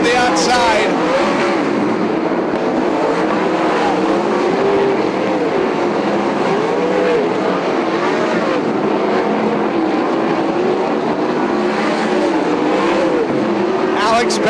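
Sprint race cars roar past continuously at Sunset Speedway Park, engines droning and shifting pitch as they speed by, loud and close, with an announcer talking over the noise.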